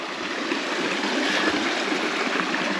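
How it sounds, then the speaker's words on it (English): A pretty creek along a hiking trail flows steadily beside a road bed, its broad, even rushing and trickling heard close and unbroken. "And in the meantime, we got a pretty creek here."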